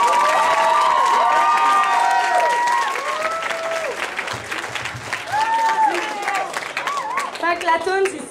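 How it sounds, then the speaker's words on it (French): An audience at a rock band's live show applauds, with scattered cheers, whoops and high whistles over steady clapping that fades and then rises again toward the end. "J'aimerais ça qu'on l'applaudisse avant que je vous la présente."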